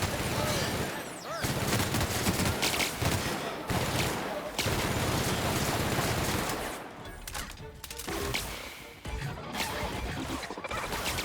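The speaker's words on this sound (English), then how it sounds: "They're shooting each other." Heavy, sustained gunfire as characters shoot each other in The Outer Worlds: dense overlapping volleys and crashes that are loud and continuous, thinning briefly toward the end, with some voices mixed in.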